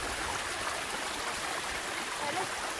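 Water tumbling over a small cascade in a mountain stream at Mont Saint-Sacrement, a steady close rushing hiss with no pauses.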